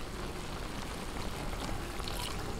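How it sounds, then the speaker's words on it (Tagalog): Water poured into a pot of spicy beef ribs caldereta, a steady dense splashing pour lasting throughout, close and moderately loud with no talk. "Lalagyan na po natin siya ng tubig para po pampalambot"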